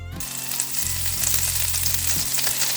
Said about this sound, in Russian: Разогреваю сковороду Э, наливаю оливковое масло, грею масло